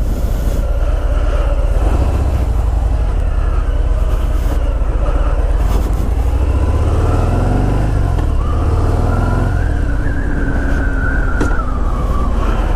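A loud, steady motor drone from a 2018 Harley-Davidson Softail Fat Bob 114 ci engine while riding, pitch rising and falling as if under acceleration, plus rushing wind and road noise.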